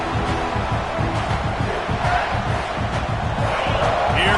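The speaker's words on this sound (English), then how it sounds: "this crowd is turning it up a notch" Large stadium crowd at an American football game roars continuously, a dense steady wall of cheering and shouting that swells slightly toward the end, with scattered voices audible within the din.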